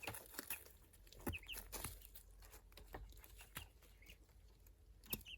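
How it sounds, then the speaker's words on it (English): Backyard chickens outdoors give soft clucks and egg-song calls, heard faint and distant with sporadic wing flaps and scratchy knocks close by. "right now they can hear the outside chickens singing the egg songs"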